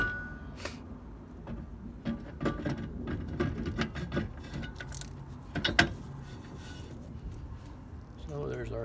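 A trailer wheel hub slides onto its axle shaft with scraping metallic clicks and clunks, several irregular knocks rising mid-way, then a brief rattle as handling settles near the end.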